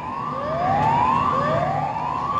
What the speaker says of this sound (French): La sirène, c'est juste pour un test